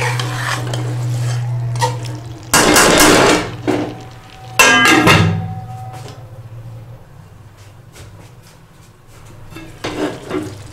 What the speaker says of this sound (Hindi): 4 अदद हरी मिर्चें हम डाल देंगे और इसे अच्छी तरह से मिक्स कर देंगे